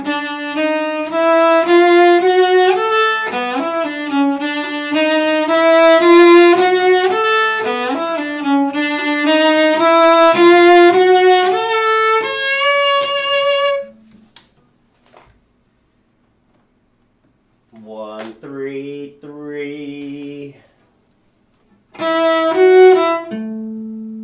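Solo cello plays a syncopated passage from the third movement of Saint-Saëns' Cello Concerto No. 1, a sustained bowed line for about fourteen seconds, then silence, then short rhythmic phrases returning near and loud.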